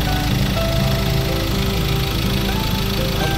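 Steady idle of a 2020 Ford Ranger XLS automatic pickup engine, heard up close as a loud, even, continuous rumble with a faint mechanical ticking and no voices.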